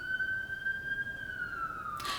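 A police car siren wails steadily outside in a quiet suburb, one long sweeping tone that bends lower near the end as it passes.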